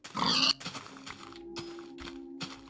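A Minecraft pig gives a loud, close oink at the start, followed by softer grunts and faint game ambience.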